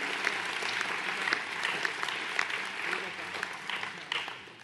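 A crowd of residents claps for the mayor's staff at a 2020 New Year's wishes ceremony, sustained dense applause from a large room with a voice talking over it before it thins near the end.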